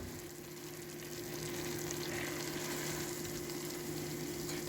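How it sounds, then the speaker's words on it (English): Shrimp frying in a pot, a steady even sizzle and crackle running throughout at moderate volume with no talking. "Look at how it is in the pot. I'm going to add the shrimp."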